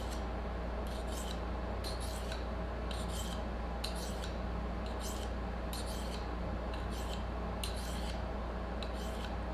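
Knife blade of AEB-L or CPM 3V steel drawn across a sharpener, about ten evenly spaced scraping strokes under a steady low hum, close and fairly quiet.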